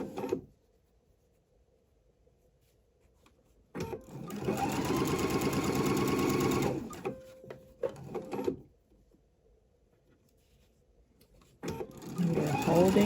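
Elastic is sewn onto a bralette with a sewing machine that runs in short bursts, one burst of about four seconds and a shorter one at the end, nearby, separated by quiet pauses.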